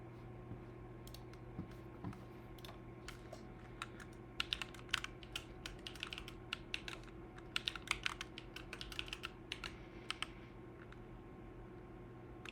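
Fingers type on a computer keyboard, with steady key clicks in irregular bursts that grow denser and faster midway, close and crisp over a faint constant hum.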